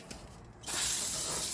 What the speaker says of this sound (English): let me spray my area, clean this up really good with brake cleaner